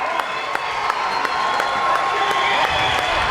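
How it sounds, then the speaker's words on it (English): A high school boys basketball crowd in a Kansas gym cheering after a defensive block, a steady roar of voices with scattered claps and shouts, sustained and fairly loud. "He got a rise from a lot of the crowd across the way"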